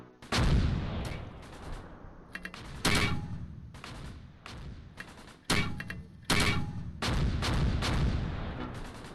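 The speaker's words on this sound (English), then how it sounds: "it's a decent barrage" An artillery barrage in the Normandy 1944 wargame Close Combat Gateway to Caen: repeated heavy booming shell impacts in clusters, loud with rumbling decays and a few sharper cracks, no voices over them.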